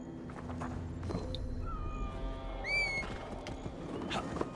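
A cat meows a few times inside Assassin's Creed Valhalla, short rising cries at moderate distance over soft ambient game noise and scattered footsteps.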